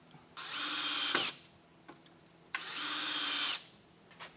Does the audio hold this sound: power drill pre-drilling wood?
yes